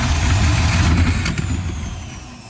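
A 1955 Chevy engine, long parked and running on a badly worn carburetor, idles steadily right after starting, a close and continuous low rumble that eases slightly toward the end.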